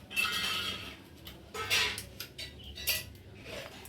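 Soybean curry is served onto a rice thali plate in a Holi-day meal, with several close, bright clinks and scrapes of a spoon against a metal plate in short bursts, without talk.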